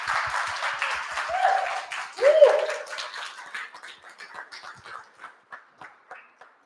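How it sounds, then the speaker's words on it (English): Audience applause for panelists at a talk on Afro-Futurism and Nike, a moderate crowd clapping that thins out into a few scattered claps, with a brief voice or vocal sound partway through. "please give them a warm, warm round of applause"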